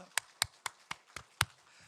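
Six sharp, evenly spaced hand claps ring out close by in a church congregation during a Sunday worship service. No voices are heard.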